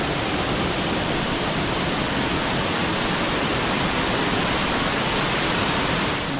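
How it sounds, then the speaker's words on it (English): A waterfall pours with a dense, unbroken roar of rushing water, loud and steady throughout with no voices. "Not a bad waterfall."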